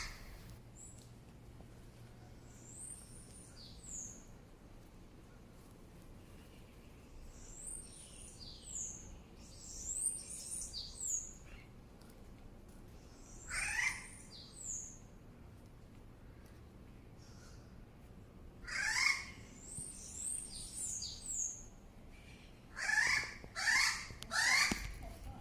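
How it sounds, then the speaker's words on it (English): Birds call in the early morning at a Dominican resort, with scattered chirps and whistled phrases in bursts over a quiet background that grow busier toward the end, with no talk. "we were just fascinated by the sound of the birds"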